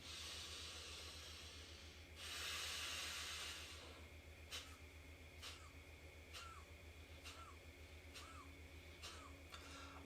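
Gentle pranayama breathing through the nose: a longer soft exhale followed by a series of short, rhythmic puffs of air, faint and close against a low steady hum.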